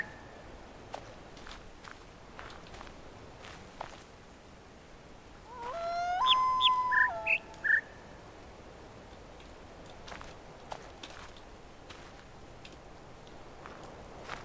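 A short bird call in the puzzle game The Witness rises as a few clear chirps and whistles over quiet ambient footsteps and ticks, moderately close, with no voices.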